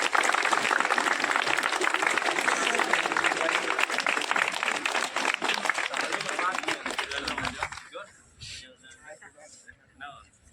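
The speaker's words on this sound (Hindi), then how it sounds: "ताली बजा कर स्वागत कीजिए।" Guests are welcomed with applause at an award ceremony held with a martial arts competition. Many hands clap briskly for about seven seconds, then the clapping fades into quieter room sound with some talking.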